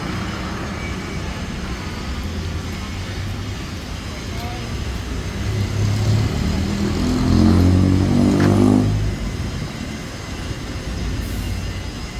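Street traffic passes by on a Sunday near a road partly closed for an event, with a steady outdoor rumble and one vehicle growing louder and nearer before fading as it goes by.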